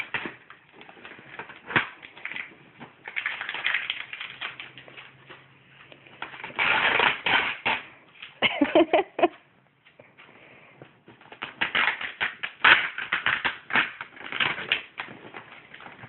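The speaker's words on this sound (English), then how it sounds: "You have to peel off all the tape before you can rip it open." Tape peeled off a cardboard shipping box, with long crackling, ripping and rustling stretches, close and fairly loud, broken by short pauses, with no talk.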